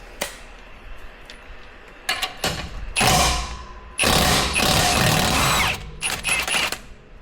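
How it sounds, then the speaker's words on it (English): Bolt being removed from the bottom of a strut on a third-generation Toyota Tundra during a lift kit install: bursts of power-tool whirring and mechanical clatter with thuds, loud and close, in several uneven runs. "Next thing I'll do is remove the bolt from the bottom of the strut."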